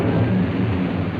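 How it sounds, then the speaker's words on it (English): A thunderstorm sound effect for a radio serial, with a storm crossing a dirigible's path: a steady, loud, rumbling roar of thunder and rain that fills the whole moment without any voices. "there's a terrific storm crossing the path of the dirigible"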